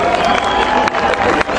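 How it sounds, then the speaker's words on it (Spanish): A festival crowd applauds after a popular traditional music performance, dense clapping mixed with cheering and crowd voices, loud and continuous throughout. "Gracias a ustedes, por favor, se dan un aplauso."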